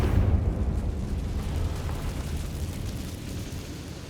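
A Confringo blast spell in Hogwarts Legacy, a loud, deep rumbling explosion that booms at once and then rolls and crackles as it slowly fades over several seconds.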